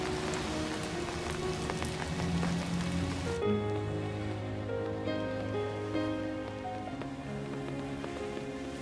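Heavy rain pours steadily and loudly, broadband and continuous, with a music score playing over it from partway through; no voices are heard.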